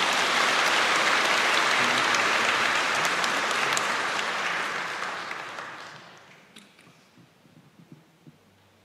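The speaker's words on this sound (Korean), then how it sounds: "힘찬 박수 청해 주시죠." Vigorous audience applause welcoming a nun at a gathering at a Marian shrine, a loud dense clapping wash that gradually thins and fades out, leaving scattered faint claps and quiet room noise.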